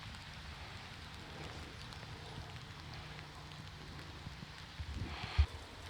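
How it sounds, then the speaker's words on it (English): Heavy rain falls steadily in a cemetery in Seaford, Sussex, a constant faint hiss with a few louder knocks near the end. "it's been raining hard while I've been doing this video"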